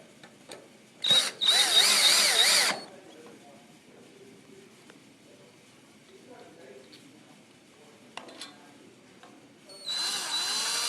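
A power drill driving wood screws into a wooden post during stand assembly, with two short bursts of whining drill motor separated by a quiet stretch of faint handling noises, close and loud.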